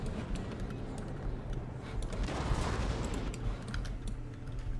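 Artillery trading fire during a Napoleon: Total War multiplayer battle, a continuous dense rumble of distant cannon shots with sharper cracks scattered on top, no voices.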